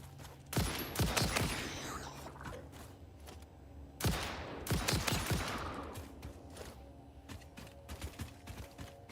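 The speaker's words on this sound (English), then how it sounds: "Guess I forgot I got like an actual gun." Gunfire from the player's gun in the video game Satisfactory, two loud bursts of rapid shots with clicking and faint rattles between them, no talk.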